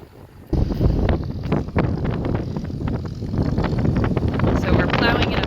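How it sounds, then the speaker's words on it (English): Strong wind buffets the microphone on an open farm field during drought, a loud, gusty roar with bursts and thumps that persists throughout, while a voice speaks briefly over it. "it's windy."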